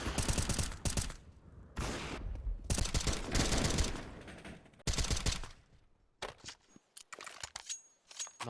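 Rapid bursts of pistol gunfire in an esports video game match, dense volleys of sharp shots in clusters with brief gaps, then sparser single cracks toward the end.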